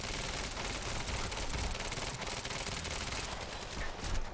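Dense, continuous gunfire in the Quantum Break video game on Xbox One, with rapid overlapping shots forming a loud, sustained barrage and no pauses.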